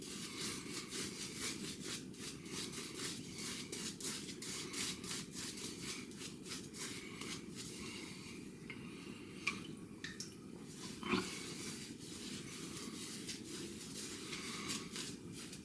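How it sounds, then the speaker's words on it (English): A shaving brush works water and soap into a lather on a face, a steady close scrubbing and swishing with rapid rhythmic strokes throughout, no talking. "This is probably one of the parts of shaving I enjoy, is making a lather."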